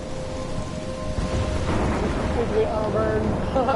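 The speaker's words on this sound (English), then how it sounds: "I'm trapped in a storm?" Rain pours steadily and thunder rumbles through a storm in the video game Life Is Strange, the rumble swelling midway, with a voice speaking briefly over the downpour.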